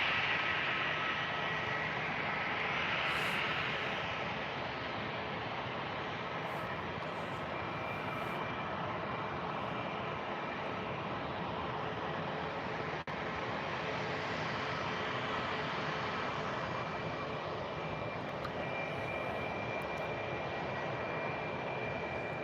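An EasyJet Airbus A319 jet arriving at Birmingham airport from Belfast makes a continuous engine roar, loudest at first and then settling into a steady, distant whine and rumble.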